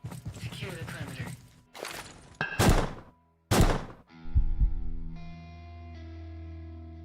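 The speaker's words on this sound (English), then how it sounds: "I threw a grenade and it went like inside the wall." A thrown grenade in a video game lands and wedges inside a wall, giving a few heavy thunks and thuds in quick succession, then a held electronic tone under game sound effects.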